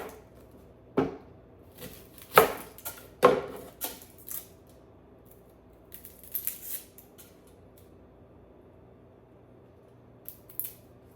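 Knife slicing a red onion into wedges on a cutting board, a few sharp crisp cuts near the start followed by softer scattered taps and rustles of handling, with quiet pauses between.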